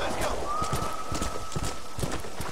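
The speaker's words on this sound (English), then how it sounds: "where the fuck did this horse come from? This is my other horse." Rhythmic clip-clop of horse hooves with a drawn-out whinny in the video game Red Dead Redemption, steady and close, mixed with game ambience.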